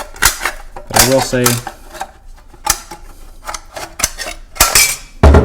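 Tin snips cutting through Zip Hinge metal flashing, giving a series of sharp metallic clicks and crunching snips in quick bursts, close up, under a voice.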